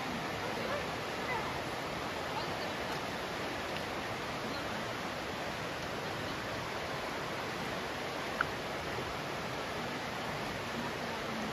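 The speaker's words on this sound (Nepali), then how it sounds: "अहिले फोहोर जुत्ता धुने कार्यक्रम भइरहेको छ" A countryside stream in the Brecon Beacons, Wales, rushes steadily while dirty shoes are washed in it, a constant broad wash of flowing water with no clear voices above it.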